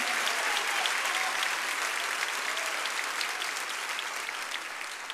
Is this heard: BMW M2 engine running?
no